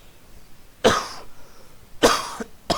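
Three sharp coughs, close and loud, spaced irregularly with quiet gaps between them.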